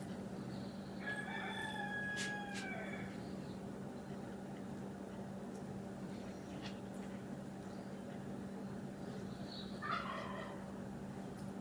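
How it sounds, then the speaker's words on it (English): Morning chickens in a home setting, with a rooster's crow rising early and another call near the end, fairly distant over a constant low hum and background noise. "Chickens are up."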